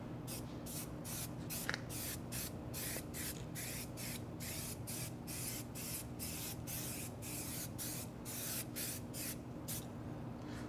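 Tire shine foam is sprayed onto a car tire in a long series of short, evenly spaced hissing bursts. It carries on at a steady rhythm, close and moderately loud, with a low hum underneath.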